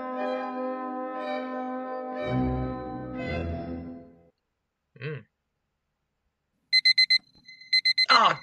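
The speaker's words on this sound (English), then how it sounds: "I hate that alarm noise" An alarm clock rings with a bright, tonal chiming that sustains for several seconds, then falls silent before returning as a series of rapid, loud, repeated beeping bursts close to the microphone.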